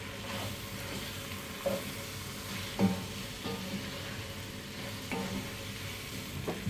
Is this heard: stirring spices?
yes